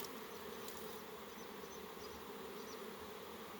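Bees buzz in a continuous, close drone, with a few individual insects rising and fading against the hum.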